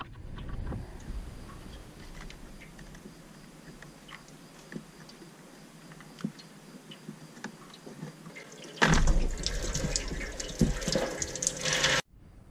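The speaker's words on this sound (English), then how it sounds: "You can just squeeze that clamp with your fingers, remove the clamp, and then pull the hose off and let it drain." Coolant draining out of a disconnected reservoir hose on a Kubota BX compact tractor, quiet trickling and drips at first, then a sudden louder rush of pouring liquid for several seconds before it cuts off.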